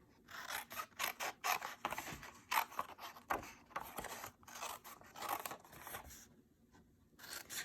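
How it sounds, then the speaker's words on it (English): Scissors snip through paper while a treat holder is cut out for an ink craft project, a faint, close run of repeated soft cuts and rasping slides. "we're going to cut that piece off"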